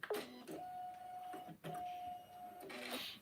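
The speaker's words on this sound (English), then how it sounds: "I'm working on a Janome. It's a Janome Continental M17." Janome Continental M17 embroidery sewing machine stitching in two long runs with a steady whine, separated by short mechanical clunks and pauses, quiet and close by.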